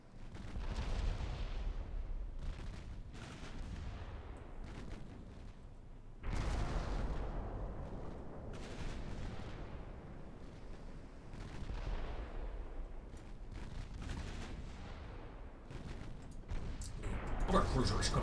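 Warship guns firing explosive rounds in the Ultimate Admiral Dreadnoughts naval game, a steady run of heavy booming blasts and rumbling detonations, some sharp and close, others rolling, continuing without pause.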